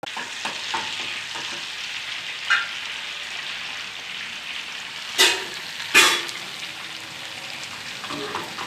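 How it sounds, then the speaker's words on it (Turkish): Butter frying in a pan for Turkish village-style pasta, a steady close sizzle and crackle with a few sharper pops and spatters standing out, and no voices. "Yağımız da kızarıyor."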